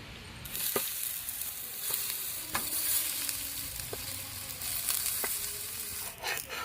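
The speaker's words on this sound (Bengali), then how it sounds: "এইভাবেই আমরা বাকি বেগুনগুলোকে ভেজে নেব।" Aubergine slices fry in a pan with a steady close crackling sizzle, broken by a few light taps and scrapes of a utensil, with no voices.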